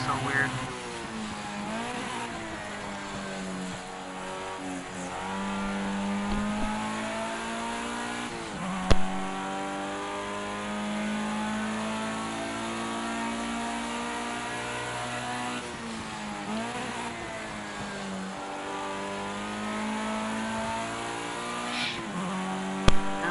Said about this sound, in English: This is like one of the antique Formula One cars.